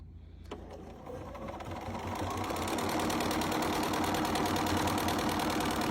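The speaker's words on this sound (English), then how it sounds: "You have total stitch control with your Bernina." Bernina sewing machine stitching with presser foot #6, a fast steady mechanical whir of needle strokes that starts after a click, ramps up in speed and then runs continuously and loud on its own.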